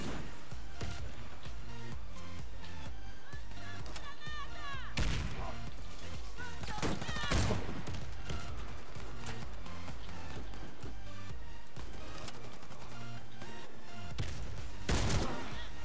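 Gunfire in the online shooter Warface, with dense bursts and repeated sharp shots and impacts over a busy, constant game soundscape.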